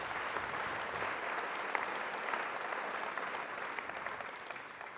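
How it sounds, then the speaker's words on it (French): An audience applauding the guest of honour at an inaugural session, a dense, steady round of clapping from many hands that holds throughout and eases slightly toward the end. "On peut l'applaudir"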